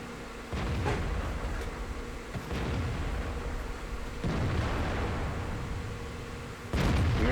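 Cannon fire from a KV-4 heavy tank in a video game, aimed at a T-34: a few heavy booming shots spaced a couple of seconds apart, each followed by a rumbling tail over constant engine drone, with no talk.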